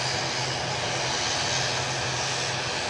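EasyJet airliner bound for Amsterdam sits at Edinburgh Airport, its engine giving a steady, moderately loud hum with a low droning tone that holds evenly throughout, no voices.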